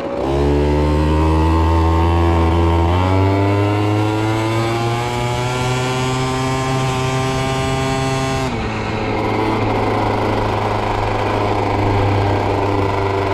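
An MBK Booster Next 50 moped fitted with a Polini race kit is ridden with its two-stroke engine buzzing loudly and continuously. The pitch climbs as it revs, drops sharply, then settles into a steady high whine.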